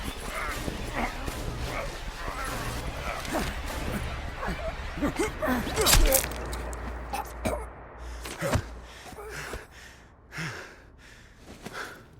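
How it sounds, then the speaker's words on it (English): Street dog barking in Call of Duty: Black Ops Cold War on PS4, a few sharp barks and yips scattered among game ambience, sighs and faint voices over a steady low rumble. "That street dog should have been put down long ago."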